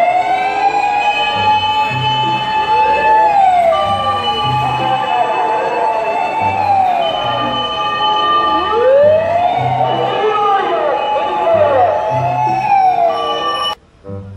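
Loud wailing siren of a toy fire truck sweeping up and down repeatedly with an electronic, toy-like tone, close up, then cutting off abruptly near the end.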